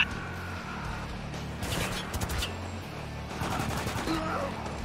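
Rapid bursts of automatic gunfire in the shooter video game Spec Ops: The Line, moderately loud, in a few separate volleys mixed with shouted combat voices.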